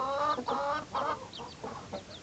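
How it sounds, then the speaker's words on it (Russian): Several short, high peeping and cheeping calls from young, partly feathered chicks playing with a tree leaf, close by, in quick irregular bursts with brief pauses between them. "Играются с листочком дерева цыплята"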